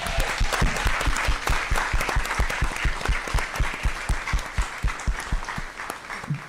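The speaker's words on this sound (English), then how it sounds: "give her a round of applause" An audience at a school district governing board meeting gives a loud, close round of applause for a girls' state wrestling champion, with individual claps rising sharply above the dense wash and no voices heard.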